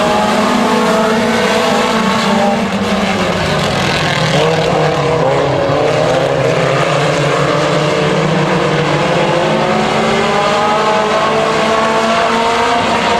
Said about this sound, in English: 8-lap heat race, green flag is in the air